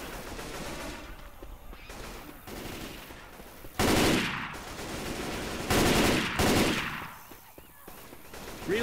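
A newly picked-up gun fires in the video game Left 4 Dead 2: loud, rapid automatic bursts come in several long volleys with brief gaps between them.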